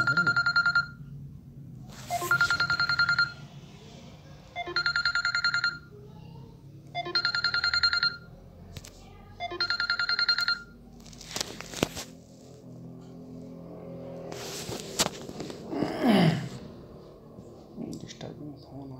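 A phone rings during a maths class in repeated electronic bursts with pauses between, near and clear, followed by clicks and handling noise; a voice speaks over part of it.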